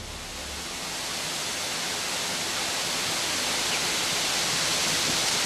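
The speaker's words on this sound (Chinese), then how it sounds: "水声很大" Rushing water from a mountain waterfall along a valley trail in Taiwan makes a loud, unbroken roar that swells slightly and then stays constant throughout.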